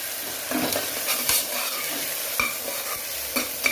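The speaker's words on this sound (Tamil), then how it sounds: "இஞ்சி பூண்டு பேஸ்ட் போட்டுக்கலாம். கொஞ்சம் வாசனையாக இருக்கும், நல்லாயிருக்கும். நல்லா கலந்து விட்டுக்கலாம்" Ginger garlic paste is mixed into wheat rava khichdi in a pan, a soft continuous sizzle under scattered scraping and clinking of a spoon against the vessel, close and without speech.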